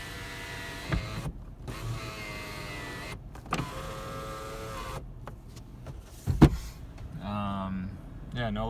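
Power windows in a 2006 Toyota 4Runner SR5 4x4 whir up and down, a steady electric motor hum running for several seconds with clunks as the glass stops, recorded close inside the cabin.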